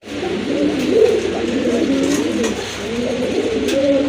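Pigeons coo over and over in a soft, steady rolling rhythm at a pigeon market where colored birds are sold, with a faint background hum and no talking.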